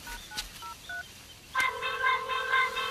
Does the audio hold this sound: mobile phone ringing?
yes